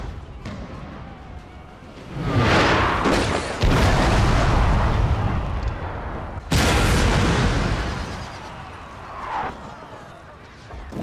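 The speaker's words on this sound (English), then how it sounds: "Lee bombards the Union defenses," Deep booming artillery bombardment of Union defenses at Gettysburg in the video game Total War, with heavy rolling blasts and sustained rumbling barrage swells, loud and broad.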